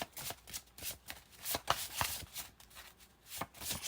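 A tarot deck being shuffled and cards pulled makes quick, close papery riffles and slaps in uneven bursts, with no talking.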